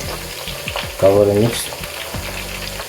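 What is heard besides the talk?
chicken wings frying in a pan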